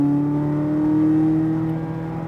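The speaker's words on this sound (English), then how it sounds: "Now keep accelerating to the next green." A Corvette Z06 on a race track holds a steady, droning engine note under acceleration, heard from inside the car at moderate volume with no talk.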